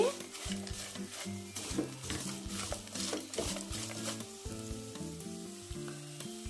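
Bitter gourd pieces coated in spice powder crackle and sizzle in a frying pan as they are tossed and stirred. Busy, close scraping and clatter keep going throughout, over a faint musical background.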